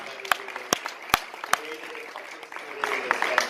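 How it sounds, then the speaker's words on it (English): A few sharp, scattered hand claps from an audience at an energy presentation forum in Jerusalem, spaced irregularly, then gathering into lighter clapping while people talk in the background. "Let's start with a big round of applause for Avi and Ari and everybody"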